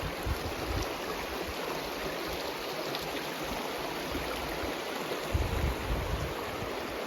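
The Dan River flows in a steady, close rush of water that holds at an even level throughout, with a few low rumbles and no voices.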